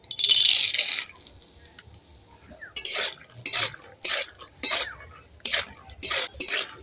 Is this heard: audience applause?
no